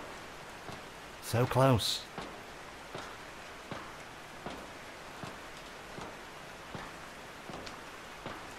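Rain in the horror video game Anji falls as a steady, soft hiss of drops with faint ticks. A man's short spoken remark rises briefly over it near the start.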